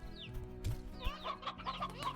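Hens in the Slime Rancher video game clucking in a busy coop, with repeated short bird calls over a low background hum.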